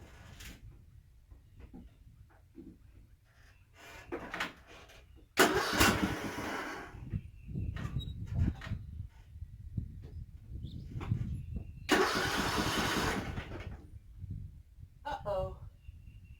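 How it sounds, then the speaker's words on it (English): A farm tractor heading out to mow a back field cranks and catches twice, each start a loud burst of engine noise, with quieter clunks and some speech around them. "I'm going to get on the tractor and go mow the backfield."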